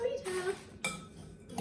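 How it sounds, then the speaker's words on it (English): Spoon stirring a seed cracker mixture with salt in a bowl, giving a few scraping clinks in quick bursts, close and moderately loud. "So give all that a bit of a stir first."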